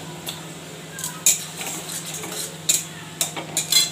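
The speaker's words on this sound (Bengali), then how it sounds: "এবার ভালো করে কষাবো একটু।" Spices, turmeric, tomato and bitter gourd being stirred and fried in a pan for a Bengali fish curry, with a steady low sizzle under repeated scraping and clinking of a spatula against the pan.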